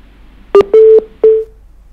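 Three short electronic beeps at one steady pitch sound from a disconnected phone line during a live television panel discussion. The beeps are loud and close, spaced evenly, with no voices.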